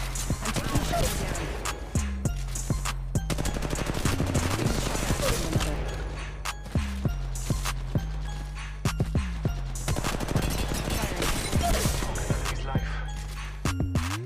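Gunfire in the Apex Legends Mobile game. Rapid bursts of shots crack again and again over a low, steady hum, and the volume stays high and busy throughout.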